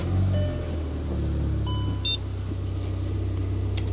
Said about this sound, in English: so let's start up the car, see what happens